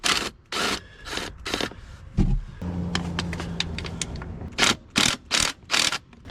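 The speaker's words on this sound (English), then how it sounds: "the best way that I found was about a 6-inch extension with the U-joint on the end of it, and then my 8mm socket on the end of that" A ratchet turning an 8mm socket on a six-inch extension with a U-joint, removing the CVT cover on a Yamaha Grizzly 600 ATV: bursts of rapid clicking in separate strokes, near and clear, with a brief clunk between.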